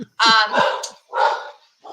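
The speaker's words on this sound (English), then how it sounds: "sorry about the dogs, somebody's at the front door apparently." Dogs indoors bark at someone at the front door: three loud, close yapping bursts with short pauses between them, plus a brief human murmur.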